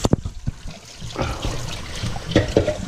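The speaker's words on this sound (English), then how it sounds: "We're going to rinse you out." Tap water trickles and splashes while a whole chicken is rinsed out before smoking with achiote, a close, uneven running flow with a few louder splashy bursts near the end.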